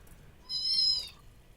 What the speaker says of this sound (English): I heard the echo of my cat's meow.